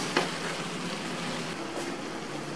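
Chicken sautés in a pan with a steady, moderate sizzle, and a single brief clack of a utensil comes near the start.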